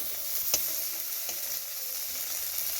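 Vegetables sizzle steadily in hot oil, with a couple of brief scraping stirs standing out against the frying hiss.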